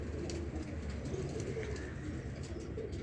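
Pigeons coo softly in a low, faint bird background with a few gentle repeated calls and chirps, without any talking.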